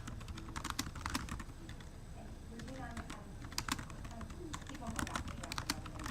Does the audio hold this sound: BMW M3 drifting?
no